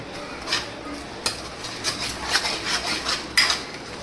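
A few clanks and scrapes of a metal pan holding cooked vegetable greens as it is lifted off a home stove, light knocks scattered over a quiet kitchen with no talk.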